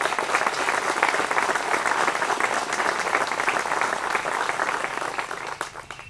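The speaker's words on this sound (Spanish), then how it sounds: "del cual pido un aplauso de todos ustedes" Steady, dense applause from a gathered audience at a ceremony honoring a mill workers' cooperative, even and fairly loud throughout, fading slightly at the very end.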